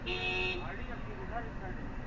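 A short car horn blast sounds at the start, followed by passing traffic noise and a faint voice in the background.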